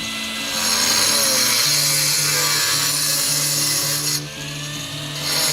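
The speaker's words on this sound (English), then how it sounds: "used an abrasive wheel for cutting 3-inch square holes in the marked tiles" An abrasive wheel cuts three-inch square holes in roofing tiles, making a loud, continuous high whine close by that dips briefly near the end before rising again.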